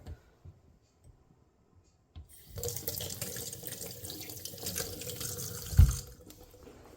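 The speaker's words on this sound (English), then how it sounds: "And now we rinse this off." Tap water runs steadily into a sink to rinse pasta, starting after a couple of seconds of near-quiet with small ticks, then a continuous close splashing stream.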